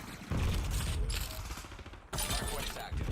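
Automatic gunfire crackles in rapid bursts during a Call of Duty Hardpoint match, moderately faint with a brief break before the firing resumes.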